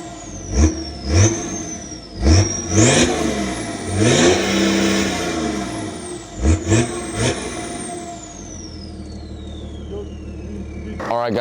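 A BMW 335d diesel with its emissions equipment deleted fires up and revs hard in repeated sharp bursts with a rising whistle, then settles into a steady idle; nearby voices can be heard in places.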